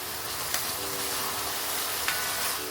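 Steady soft sizzle of onions, ginger, garlic and chillies sautéing with salt in a pan for chicken roast, with a couple of faint clicks of stirring over the continuous hiss.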